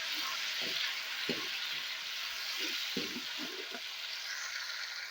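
Tomatoes and green chillies frying in a pan for a bitter gourd and chana dal dish, a steady close sizzle with scattered soft stirring scrapes and clinks, no voices.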